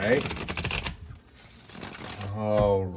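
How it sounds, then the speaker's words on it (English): A deck of cards is riffled and shuffled in quick crisp bursts, with a voice speaking briefly between the shuffles. "I'm going to go ahead and give these cards one more shuffle"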